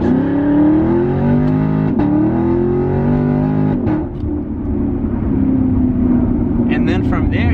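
6th gen Camaro launching at full throttle, a loud close engine roar climbing in pitch through two quick shifts before settling into a sustained high drone, with a voice talking over it.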